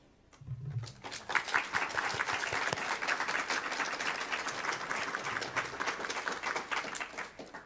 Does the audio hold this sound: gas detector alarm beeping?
no